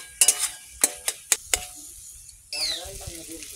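Taro flowers dropped into a frying pan with shrimp, giving a few sharp clinks and spatters followed by a rising sizzle of frying, close and fairly loud, with no talk.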